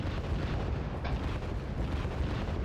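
Artillery explosions in the war game Red Dragon wipe out a command unit, a dense continuous rumble of overlapping booms and blasts, loud and heavy throughout, with no voices.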